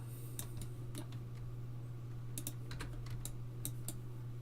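Computer keyboard keys pressed in 3D modeling software, scattered quiet clicks in small clusters over a steady low hum, no voice.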